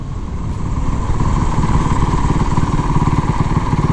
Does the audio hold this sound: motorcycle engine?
yes